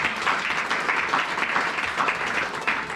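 Congregation in a French-speaking church clapping together, a steady, dense wash of applause at moderate loudness with no talk over it.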